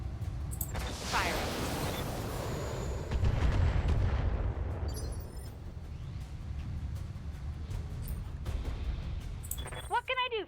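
A combat mech in the video game BattleTech fires its weapons: a loud opening blast gives way to rolling, rumbling bursts and scattered metallic clinks, with a fast, rattling volley near the end.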